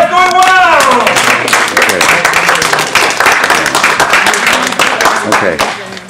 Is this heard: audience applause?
yes